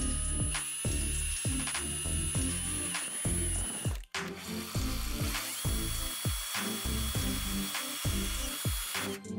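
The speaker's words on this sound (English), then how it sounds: "we decided to show how it can be done using the jigsaw" A jigsaw fitted with a metal blade cuts through sheet metal for a homemade sandblasting cabinet, giving a loud, rattling, rapid reciprocating buzz with rhythmic chatter and a brief pause midway.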